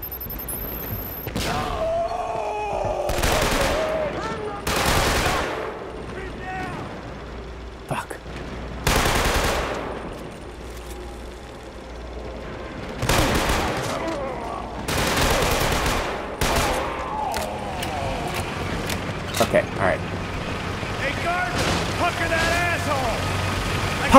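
Video game combat with bursts of automatic gunfire and a grenade explosion, loud sustained volleys spread across the clip with short gaps, while someone talks over the action.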